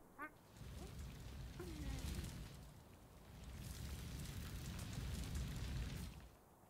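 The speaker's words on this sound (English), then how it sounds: "Why do I hear fire?" Fire burning in the workshop-building video game Little Big Workshop, a faint, steady rushing roar with soft crackling that swells and fades across the clip, heard alone with no voices.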